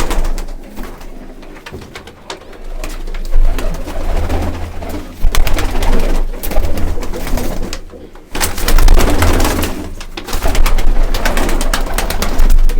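Many fancy pigeons at a large pigeon farm coo in a dense, continuous chorus, with bursts of wing flutter and rustling through the clip, close and loud.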